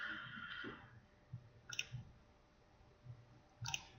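Mouse clicks on a software stop button, a few sharp isolated clicks, close and quiet, spaced apart over soft background noise.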